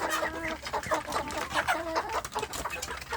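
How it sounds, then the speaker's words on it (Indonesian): Young kampung chickens in a grow-out pen cluck and cheep in a busy, overlapping chatter, fairly soft and steady, with no talk. "ini anak ayam kampung saya di bagian pembesaran untuk calon indukan"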